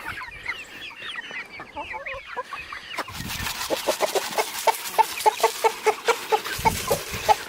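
A rooster on a homestead clucks rapidly and rhythmically to call his hens to food, the calls growing louder and more insistent, with softer hen chatter beforehand.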